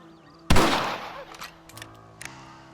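A single rifle shot fires in the Western video game Red Dead Redemption: one loud, close crack with a long reverberant tail, followed by a few faint clicks and thuds. No talking.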